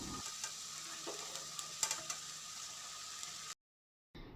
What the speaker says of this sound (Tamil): கேரட், பீன்ஸை ஒரு 3 நிமிஷம் வதக்கினா போதும்.